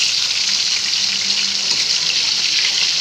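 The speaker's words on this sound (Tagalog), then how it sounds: "Ihitin muna natin itong ating piniprito" Food frying steadily in a pan, a loud dense hiss of oil sizzling close up with no pauses, a faint low hum under it.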